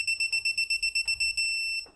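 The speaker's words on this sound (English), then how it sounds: "it will beep at you when you know you're close or on the money" A digital torque wrench beeps as a car's wheel lug nuts are tightened to set torque: a quick run of about ten clear, evenly spaced electronic beeps, then one long sustained tone, loud and close with no talking.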